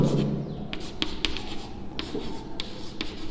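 Pen writing on paper while working out a cone and cylinder math problem: short, close scratchy strokes in quick uneven bursts, with soft rubbing between them and no voices.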